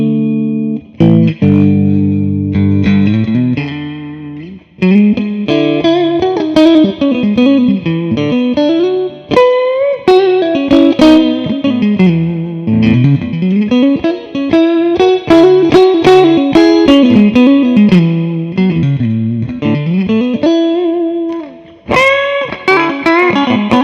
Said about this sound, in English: Listen to what happens to the bass when you get the bass up there